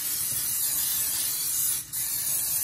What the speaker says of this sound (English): Okay, I'm gonna spray it.